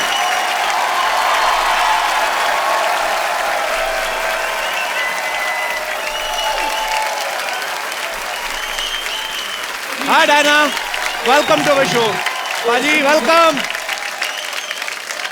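Studio audience applause on a comedy talk show fills the room continuously as guests are welcomed, with the host speaking over the clapping near the end.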